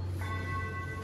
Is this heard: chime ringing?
yes